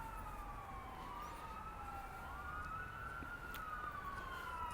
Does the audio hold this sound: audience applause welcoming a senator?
no